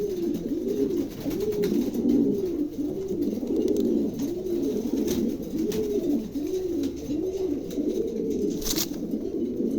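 Pigeons coo in a steady, rolling rhythm, the soft throaty calls repeating again and again close by, with a faint background hiss.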